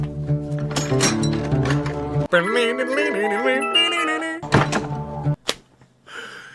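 A video game box opens with a shimmering musical jingle, then shuts with a few heavy thunks before the sound cuts off.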